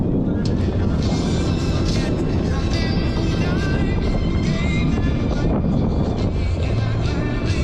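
A loud, steady helicopter engine rumble with rotor droning fills an airshow opening ceremony as parachute jumpers exit, with a few people talking underneath the continuous noise.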